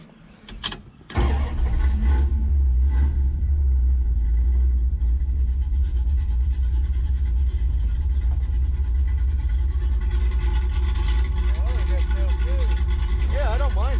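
A Plymouth Duster's 340 V8 starts with a brief crank, then settles into a steady, deep idle rumble through a new, less restrictive NASCAR-style exhaust, holding continuously, with a faint chirping noise near the end.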